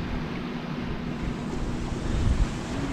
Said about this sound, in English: Wow, that's a big wave.